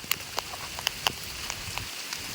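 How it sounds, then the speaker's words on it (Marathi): Heavy monsoon rain patters steadily on a surface, with scattered louder drops ticking through it. There is no talk. "कसा आहे पाऊस जाम आलेला"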